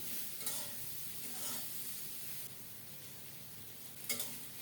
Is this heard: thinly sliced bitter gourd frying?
yes